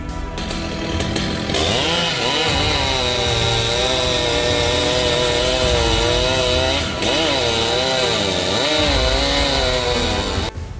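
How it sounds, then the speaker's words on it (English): A Husqvarna T540 XP chainsaw cutting tree limbs high in a forest canopy, its engine screaming loud and steady throughout, with the pitch wavering and bogging slightly as the chain bites through the wood. "A Husqvarna T540 XP moved like a choreographed performer, slicing limbs with fluid, graceful ease."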